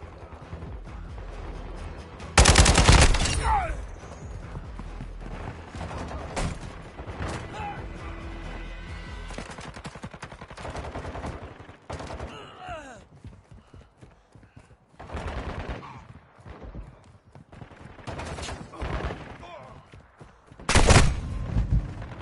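Bursts of gunfire in a shooting video game, with loud sharp volleys at the start and end and scattered shots and clatter between them, forming an uneven, busy mix.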